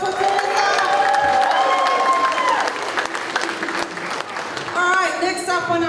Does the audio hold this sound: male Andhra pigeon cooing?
no